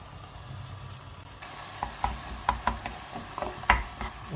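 Thawing frozen spinach with grated garlic stirred in a pan, a soft low sizzle with a few gentle scrapes and taps of the spoon toward the end, no talking.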